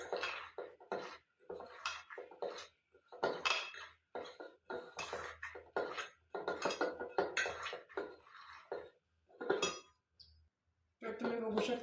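Salted bitter gourd is smashed in a dish, a string of close, irregular clinks and scraping knocks of utensil against dishware coming in quick bursts with short pauses between.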